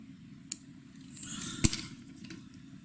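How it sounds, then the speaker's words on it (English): Scissors give a few quiet, sharp snips while cutting thread and guinea fowl feather at the head of a fly being tied, spaced irregularly over a faint hiss. "Come in, snip away your thread,"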